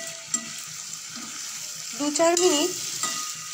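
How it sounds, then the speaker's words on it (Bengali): Tengra fish masala frying on a low flame in a kadai, with a gentle steady sizzle and a few soft scrapes and stirring clinks close by. "লো ফ্লেমে কষিয়ে নেব।"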